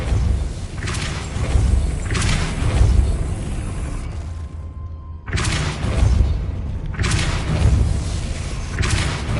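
Depulso spell impacts in the Hogwarts Legacy video game land as loud, close bursts of whooshing force and thuds, about four in quick succession with a brief near-silent gap midway.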